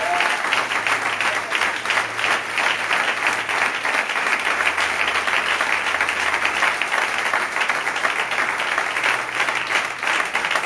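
A church congregation applauds in a continuous, dense wash of many hands, loud and steady throughout, with a low murmur of voices underneath.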